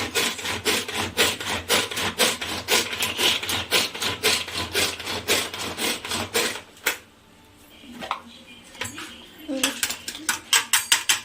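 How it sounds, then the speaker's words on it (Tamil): A manual pull-cord vegetable chopper works grated carrots with rapid rhythmic ratcheting pulls. The pulls stop briefly and then resume, loud and close. "நம்ம சீவன கேரட் எல்லாம் இந்த சாப்பரில் போட்டுக்கலாம்"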